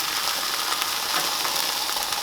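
Bologna slices sizzle in a frying pan, a dense, even hiss with light crackling that holds at moderate loudness throughout the short stretch.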